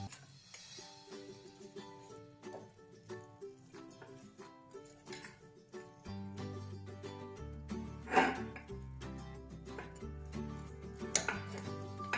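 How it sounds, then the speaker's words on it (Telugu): A spoon stirs beetroot curry in a pan, giving soft scrapes and metallic clinks under steady background music, with one sharper clatter partway through. "దీన్ని కూడా చక్కగా కలిపేసుకుందాం"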